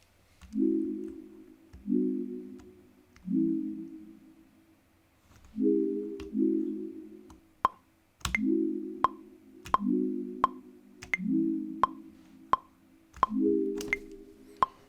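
Synthesized keys chords from a Captain Chords preset repeat in a steady progression of sustained stabs, joined partway through by sharp, bright percussive clicks on the beat.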